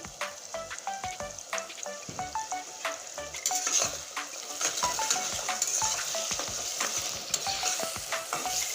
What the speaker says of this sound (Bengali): এবার পেঁয়াজটা তাড়াতাড়ি ভাজার জন্য দুই চামচ লবণ দিয়ে দিচ্ছি